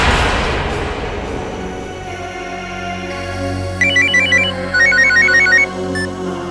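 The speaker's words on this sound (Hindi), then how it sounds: "फिर उसे आमना का फोन आया।" A telephone ringtone with repeated electronic warbling bursts rises over a dramatic music bed in a Hindi crime-story drama, ringing in short patterned pulses near the end.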